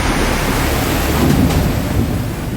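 Heavy rain pouring down at Puncak Bogor, a loud steady roar of rainfall with a deep rumble of thunder building beneath it, no voices.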